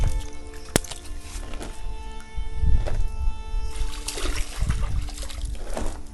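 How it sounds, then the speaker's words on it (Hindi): Water poured onto lotus leaves makes close trickling and splashing, with uneven bursts of splatter and dribble rising and falling over a steady background hum. "जैसे हम कमल के पत्तों पर अगर पानी डालेंगे तो वो किस तरह से मोती में तब्दील हो जाते हैं"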